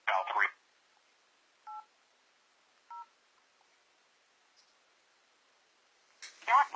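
Two short telephone keypad tones entering an extension on an automated phone line, spaced about a second apart, with brief voice fragments at the start and end.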